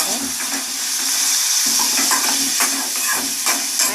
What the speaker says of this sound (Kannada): ಬೆಂಡೆಕಾಯಿ ಫ್ರೈ ಮಾಡಿ, ಈರುಳ್ಳಿ ಫ್ರೈ ಆಗ್ತದೆ.